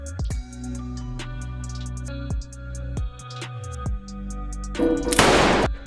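A pistol fired into the air as the signal to start a tug-of-war match, one sharp, loud bang near the end, following a stretch of tonal music punctuated by percussive hits.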